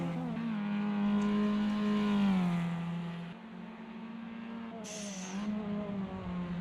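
Formula Inter race car in Automobilista 2 at Interlagos, engine howling and dropping pitch as the driver brakes hard and downshifts into second, followed by a short burst of tyre squeal as the rears lock up.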